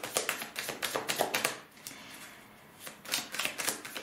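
Tarot cards are laid out and covered on a table, producing a run of quick light taps and slaps in clustered bursts, close and fairly soft, with a brief pause in the middle and no talking.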